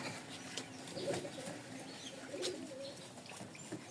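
Soft pigeon coos repeat faintly over a low background hiss, with a few light chirps scattered through.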